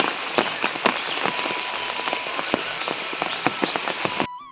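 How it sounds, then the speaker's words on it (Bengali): Heavy rain pouring down steadily nearby, a dense hiss broken by sharp close drips and splashes, with no voices. "এখন তো বৃষ্টিতে ঘুরছি আর কিছু ভিডিও ক্লিপ নিচ্ছি"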